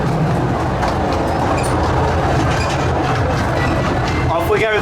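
An amusement park train rolls steadily along its track at Drayton Manor, a constant loud rumble with faint clicking under people talking nearby.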